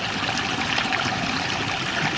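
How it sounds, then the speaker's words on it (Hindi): Hot spring water flowing out of a mountainside into a pool at Gangnani, a steady broadband rush and trickle that stays loud and even from start to finish, with no voices over it. "इस पहाड़ से ये देखो गंगा मैया का गरम गरम पानी निकल रहा है।"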